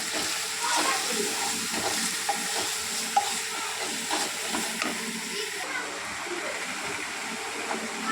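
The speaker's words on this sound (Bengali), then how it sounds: "হলুদ, জিরে গুঁড়ো, জিরে ধনে গুঁড়ো, কাশ্মীরি লঙ্কা গুঁড়ো, লবণ দিয়ে ভালোভাবে কষিয়ে নেব।" Turmeric, cumin powder, cumin-coriander powder, Kashmiri chilli powder and salt sauté in a pan for katla fish curry. A steady, close sizzle holds throughout, with light stirring scrapes and occasional soft knocks.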